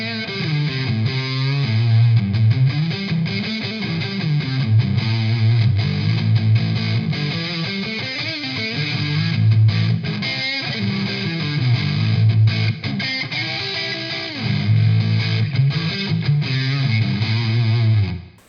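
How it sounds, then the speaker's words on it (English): EVH Wolfgang Standard electric guitar with a Floyd Rose, played on the middle pickup setting with both pickups through distortion, loud sustained riffs and bends repeating in phrases, alone without talk. "That's the sound of the middle pickup."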